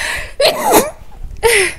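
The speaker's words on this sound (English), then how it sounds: "Oh, gotta sneeze." A person sneezes indoors during a Magic: The Gathering Arena gaming session, a loud close burst with a voiced gasp and sharp release, followed by a second brief breathy outburst.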